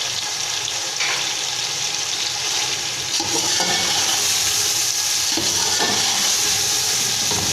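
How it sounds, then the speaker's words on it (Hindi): Meat for chicken biryani frying in a pot, a steady loud sizzle and hiss that continues without pause and with no talking. "माशाल्लाह गोश्त हमारा अच्छे से भून चुका है।"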